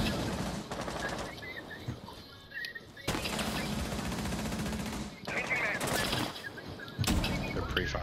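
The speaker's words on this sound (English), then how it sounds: "They're pre-firing." Automatic gunfire from pre-firing attackers in Rainbow Six Siege, with bursts loud and close running through most of the stretch, broken by short gaps, and a voice talking faintly underneath.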